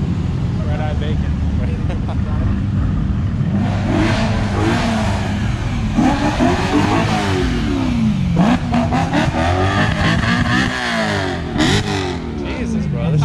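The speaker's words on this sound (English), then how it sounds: "it sounds good for a Beamer" A BMW engine revs hard and roars up and down in pitch at close range, with people talking over the rumble throughout.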